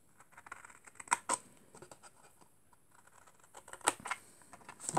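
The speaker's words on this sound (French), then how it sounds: "on vient prendre le ciseau et on vient couper le petit triangle ici" Scissors snipping a small triangle out of a folded paper card for a lily-of-the-valley design: a few quiet, crisp cuts close by, with soft paper rustling between them.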